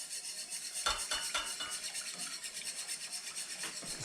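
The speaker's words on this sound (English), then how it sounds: "we're gonna add our beef gelatin, making sure to stir constantly and add it very slowly so it does not clump up" Beef gelatin being stirred into a pot: faint, steady scraping and rubbing of a utensil against the pot, with a few light clinks and no talking.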